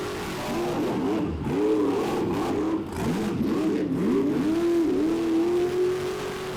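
Monster trucks Velociraptor and Rockwell Red racing at Buck Motorsports Park, engines revving hard and rising and falling in pitch through gear changes, a loud continuous roar.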